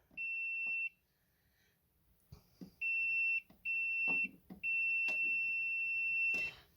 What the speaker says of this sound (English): my magic wand, and it beeps away.